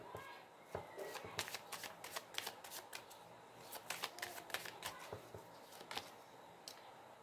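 Tarot cards being shuffled by hand during a reading, a quick run of crisp riffling and slapping card sounds repeating in bursts, close and fairly quiet.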